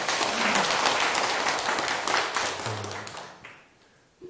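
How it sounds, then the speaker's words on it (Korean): An audience at a lecture claps together, a dense round of applause that holds steady for a few seconds, then thins and fades out near the end. "박수 한번 치세요."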